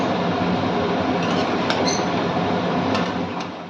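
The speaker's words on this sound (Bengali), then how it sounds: "এবার মিনিট 5 ভালো করে মাংসটাকে কষিয়ে নিতে হবে।" Chicken pieces sauté in a hot pan for Golbari-style kosha mangsho, giving a steady, loud, dense sizzle with scattered crackles and no talk.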